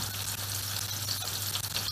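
Meatballs fry in a hot pan, a steady close sizzle with faint crackles and spits, alone without talk.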